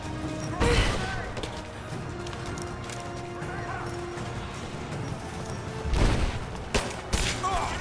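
Gunfire in the video game Rise of the Tomb Raider, with a few sharp shots and bursts over a steady game background, one near the start and more toward the end, while a player talks at times.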